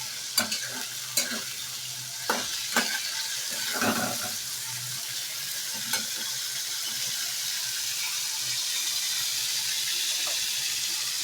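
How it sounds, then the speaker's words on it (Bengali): Chickpeas frying lightly in a little oil, a soft, steady sizzle opened by several sharp clinks and scrapes of a spoon stirring in the pan, no voices. "ছোলাগুলো আমি একটু হালকা তেলের মধ্যে নিয়ে নেব।"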